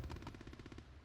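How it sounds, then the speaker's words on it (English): Distant rapid gunfire in the WWII tactics game Close Combat, a faint rattle of quick machine-gun bursts in even rhythm, heard alone without talk. "So I'm already hearing maybe some distant gunfire."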